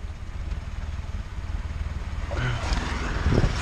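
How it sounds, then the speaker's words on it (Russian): A VAZ-2106 carburetor engine idles after its adjusting screw is turned, giving a steady low rumble that grows slightly louder near the end, with faint clatter and a brief voice-like tone over it. "Ну вот, холостые появились"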